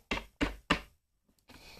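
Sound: knocking on a door

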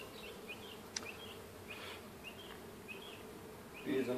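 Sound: honeybees buzzing

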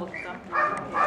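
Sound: dogs barking at a dog trial

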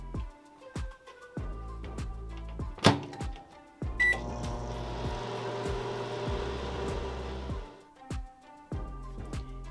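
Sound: microwave oven running while baking coffee bread

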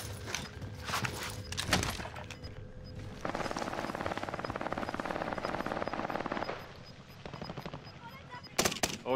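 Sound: gunfire in a video game

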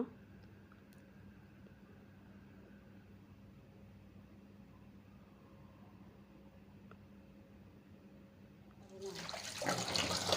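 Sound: washing cut duck meat with water

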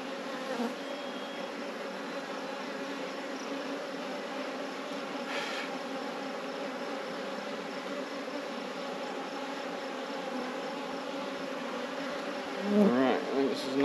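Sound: honey bees buzzing

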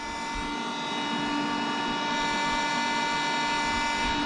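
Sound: blower running

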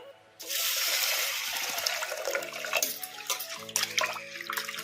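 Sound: rinsing pigeon pea lentils (toor dal) with water

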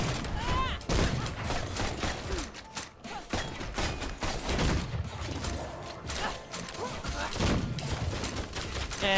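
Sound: gunshots in Full Metal Furies video game

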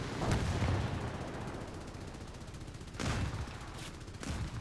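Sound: aircraft machine gun fire, War Thunder video game

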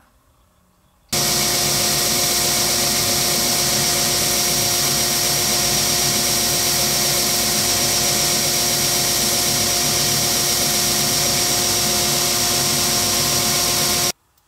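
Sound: sander beveling small wood pieces

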